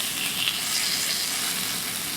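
Thinly sliced pork belly fries in a frying pan with a steady, close crackling sizzle of hot fat that continues without a break.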